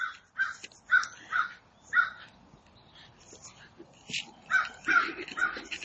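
A crow caws repeatedly outdoors, harsh calls in loose bursts of two or three, fairly close and clear against a quiet background.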